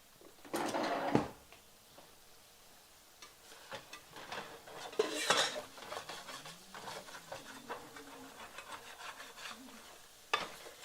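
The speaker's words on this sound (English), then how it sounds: "let me get out my spatula" Someone rummages for a spatula among pots and kitchen utensils, producing faint rubbing, rattling and drawer-like scraping, with a louder clatter early on and a sharp knock near the end.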